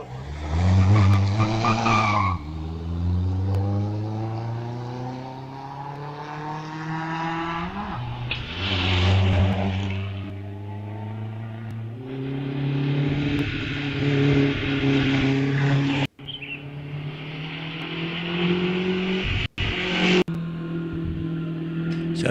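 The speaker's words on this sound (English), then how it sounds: "As the last car in this batch goes up the hill, which is number 148, Hans von Wertel." A 500cc single-seater race car climbs the Wiscombe Park hillclimb course, its engine rising and falling through gear changes with tyre squeal, loud and near, then receding as it powers uphill.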